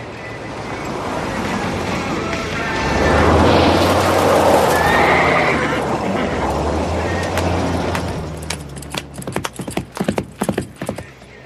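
A horse whinnies loudly, its neigh rising and falling over a low engine rumble from a revving truck, followed by a burst of sharp hoof clatters and thumps near the end.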